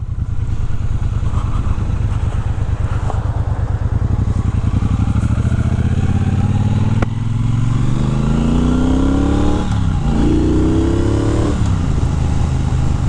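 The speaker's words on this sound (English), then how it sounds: "it's a very, very nice exhaust note, especially with aftermarket exhaust on this thing. It purrs." A 2023 Triumph Bonneville Bobber 1200 motorcycle with aftermarket exhaust idles loudly with a deep, steady exhaust rumble, then revs up and down a couple of times close by.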